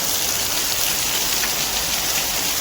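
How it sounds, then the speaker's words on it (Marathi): Heavy monsoon rain pours down on a village in the Konkan region, a dense, steady roar of drops that fills the whole stretch without pause and with no voices. "भरपूर जाम जोरदार पाऊस पडत आहे"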